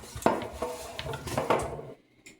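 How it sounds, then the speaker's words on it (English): Metal muffin tin, buttered, handled on a kitchen counter: several clattering knocks and scrapes of metal on metal, close and fairly loud, then a quiet pause with one faint clink at the end. "I'm going to take my buttered muffin tin"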